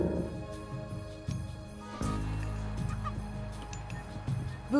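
Chickens cluck in the Age of Mythology video game, short honking fowl calls scattered over steady game music and effects, with a brighter call near the end.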